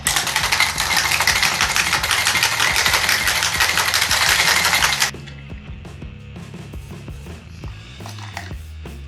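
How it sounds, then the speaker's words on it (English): Loud, dense rattling of ice shaken in a cocktail shaker for about five seconds, then it stops and quieter clinks and handling noises follow. "Shake it for about 15 seconds until it's nice and chilled."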